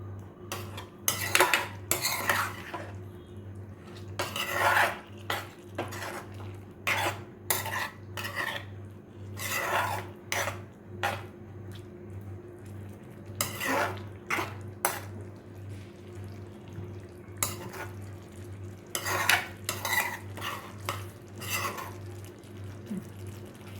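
Yogurt-coated chicken for a dry sukha dish is stirred in a pan over low heat, with repeated loud clanks and scrapes of a spoon against metal in irregular bursts over a steady low hum.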